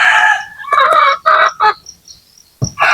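Native chicks just hatched, still wet, peep near a hen in a barnyard, with bursts of high chirping and clucking and brief pauses between calls, close and fairly loud.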